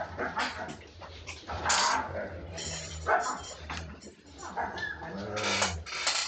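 A litter of puppies yips, whimpers and barks in overlapping bursts, moderately close, with people talking over them throughout.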